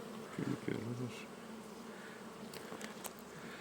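Honey bees buzz around an open beehive during a hive change by a keeper working without gloves, a steady insect drone with a louder burst near the start and faint sounds later.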